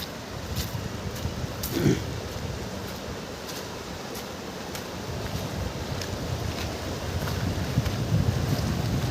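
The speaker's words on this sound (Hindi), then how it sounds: "पानी के बहाव की जो साउंड है वो आप लोगों को सुनाई दे रही होगी।" A fast-flowing river in Arunachal makes a steady, loud broadband rush of water close to the microphone. Wind buffets the mic at times, a few sharp knocks break through, and nobody speaks.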